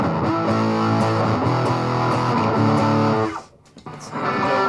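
Electric guitar through a Behringer HM300 Heavy Metal distortion pedal with an old-style metal tone, loud chugging chords that cut off abruptly, a brief pause, then resume.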